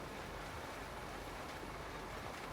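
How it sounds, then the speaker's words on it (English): A Canadian train in Farming Simulator 19, set in Michigan, rumbles by as a continuous broadband roar of rail noise, steady and fairly faint, with no voices. "There's that Canadian train again."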